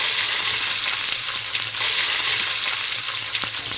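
Tomato sautés in a pan, a dense, loud, close sizzle with faint scraping stirs throughout and no speech.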